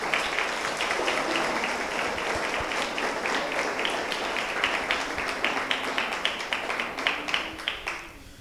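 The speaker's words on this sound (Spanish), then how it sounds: "Querétaro les da un aplauso de bienvenida a todos ustedes." A church congregation in Querétaro gives welcoming applause, a full, sustained wash of many hands that gradually thins into more distinct, rhythmic claps toward the end.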